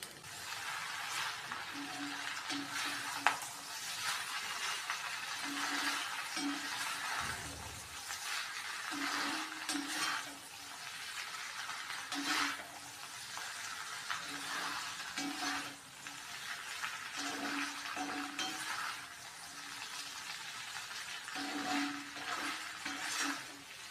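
Gongura rice is stirred in a pan on the stove, with soft scraping and intermittent clinks of the spoon against the pan over a low sizzle, repeated at an uneven rhythm.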